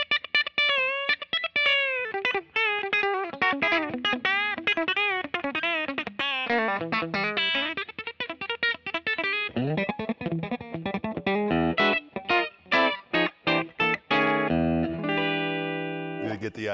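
A 1959 Fender Custom Shop Telecaster Relic plays through its bridge broadcaster pickup with distortion, a loud run of gritty, sustained chords and single notes with rhythmic stabs and short pauses, with no voice over it.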